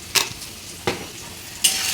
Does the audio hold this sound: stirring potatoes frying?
yes